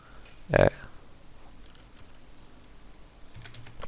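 Computer keyboard keys click softly in short scattered taps after a louder bump near the start, faint and close, with a voice speaking at times.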